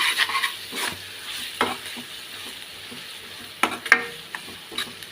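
Onions frying in oil with ginger-garlic paste and turmeric for a Telangana-style fish curry, a steady close sizzle broken by several sharp scraping stirs of a spatula against the pan.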